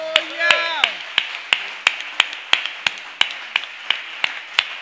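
A church congregation claps in praise during a thanksgiving prayer service. The claps are steady, rhythmic and even, roughly three per second, and a voice sings or speaks briefly at the start.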